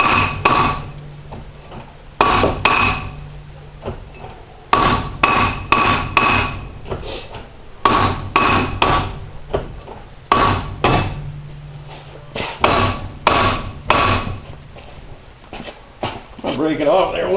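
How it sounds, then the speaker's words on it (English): Sharp metallic blows from a small hammer on a car wheel bearing ring out in irregular clusters, loud and close, with quiet pauses between strikes. "I had to downsize my hammer"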